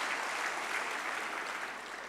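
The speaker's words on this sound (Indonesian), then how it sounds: "tepuk tangan dong buat 1 putaran" Audience applause fills a business dialogue event for young executives held at a market, a steady dense clapping from a crowd that sustains at full strength for about two seconds without voices.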